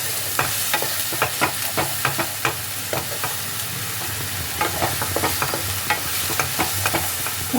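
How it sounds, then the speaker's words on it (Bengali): Spice paste for navratan korma stir-fried in oil, loud rhythmic scraping stirs over a continuous sizzle, close up with no talking. "এটাকে ভালোভাবে কষিয়ে নিতে হবে যতক্ষণ না মশলার কাঁচা গন্ধটা চলে যায়।"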